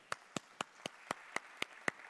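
Regular claps at a GEN Summit 2019 conference session, about eight evenly spaced crisp hand claps over two seconds, quiet and somewhat distant, like a single person beating a slow rhythm rather than full applause.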